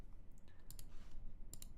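Two crisp computer mouse clicks on a web marketing tool, the first pair near the start and a sharper double click near the end, close and fairly quiet over a low background hum.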